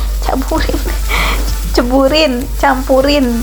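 Young baby green beans stir-fried in a pan with fragrant shallots and garlic, a close sizzle with stirring scrapes, repeatedly overlapped by a voice talking over the cooking.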